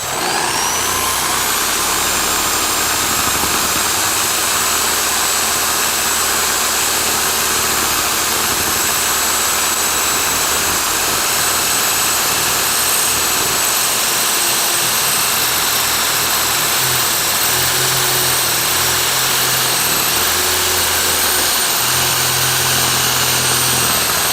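A drill-mounted sander runs with 400 grit sandpaper polishing a piece, a loud, steady high-pitched whirring grind that holds unbroken throughout, no voices.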